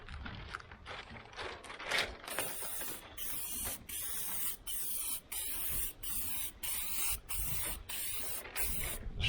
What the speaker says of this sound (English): Spraying like paint right now